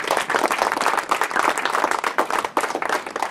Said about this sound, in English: So they deserve a big, big applause here.